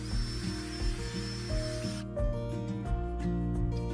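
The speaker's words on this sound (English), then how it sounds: "polished off with a foam pad in a cordless drill" A cordless drill spins a foam pad to buff Polar Shine 10 compound off a turned wooden bowl, a steady close motor whir with soft rubbing that shifts in pitch partway through.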